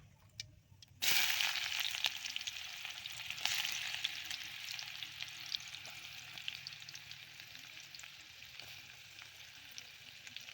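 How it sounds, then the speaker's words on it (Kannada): Chopped onions drop into hot oil with cumin and mustard seeds, setting off a sudden loud sizzle that then settles into steady crackling and popping, slowly fading but continuing throughout, with no talking. "ಜೀರಿಗೆ ಸಾಸಿವೆ ಹಾಕಿ ನೋಡ್ರಿ. ಈಗ ಉಳ್ಳಾಗಡ್ಡಿ ಹಾಕೋದ್ರಿ."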